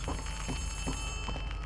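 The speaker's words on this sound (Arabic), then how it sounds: "صوت التلفون" A telephone rings in the video game Poppy Playtime Chapter 3, a steady electronic ringing tone repeating in short pulses, loud and continuous with no speech.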